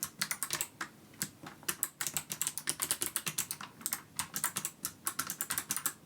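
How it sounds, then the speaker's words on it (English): Keys clatter on a Go80 split ergonomic keyboard fitted with clicky white switches, a quick, irregular run of sharp, close keystroke clicks at moderate loudness with no talking. "For reference, here is the Go80 with some clicky whites."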